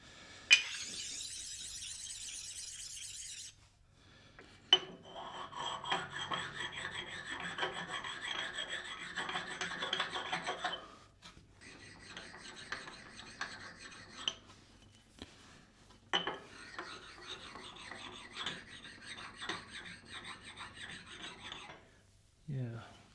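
A metal file being dressed with sharpening stones gives steady rasping, rubbing strokes in several separate bursts, close and fairly quiet, with short pauses between passes and no talking.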